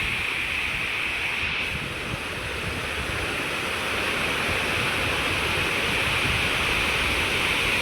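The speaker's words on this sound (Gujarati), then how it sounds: "પાણી પણ મસ્ત મજાનું જોરદાર આવે છે" Water gushes from the open gates of the overflowing Shetrunji Dam at Palitana, a loud, steady broadband roar that holds unbroken throughout.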